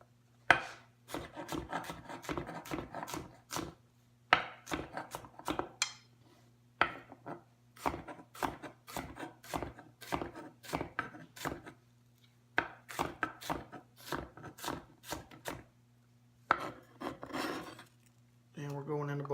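Knife chopping red onion on a cutting board for pineapple salsa, a steady run of quick, close, crisp board-tapping strokes in bursts with brief pauses, no talking.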